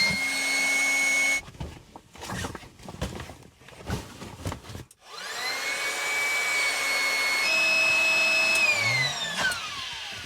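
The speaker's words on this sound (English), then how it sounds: "I'm gonna have to charge this again for a few minutes so I can pump up my air mattress" A battery-powered air pump whirs steadily while inflating an air mattress, starting loud, cutting out into a stretch of clatter and handling noise, then running again in a long continuous drone whose pitch slowly shifts.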